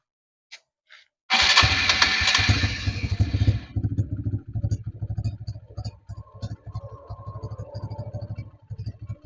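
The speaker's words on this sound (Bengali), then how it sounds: "বাইকটি যদি আপনাদের স্টার্ট করে সাউন্ড শোনার চেষ্টা করি" A 2024 TVS Metro Plus motorcycle starting: a burst of electric-start cranking, then the engine catches and idles in a steady close putter that grows uneven and sputtering, as if short on fuel.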